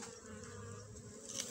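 Japanese honeybees buzz close by at a hive during an autumn inspection and cleaning, a steady dense drone that holds level throughout with no voices.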